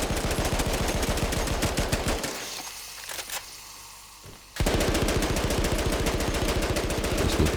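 Rapid sustained machine gun fire in the video game Battlefield 1 rattles loudly, breaks off for a couple of seconds of near quiet, then resumes just as fast and dense.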